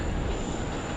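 A FedEx Boeing 777 lands at Sydney Airport on runway 25, its broad jet engine roar dense and steady throughout the moment, loud and close.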